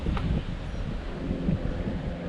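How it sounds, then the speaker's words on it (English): Steady wind blowing outdoors beside a Bonneville SSEi 3800 Series II, a broad low rumbling rush of wind noise buffeting the microphone throughout, with no talking. "It's pretty windy."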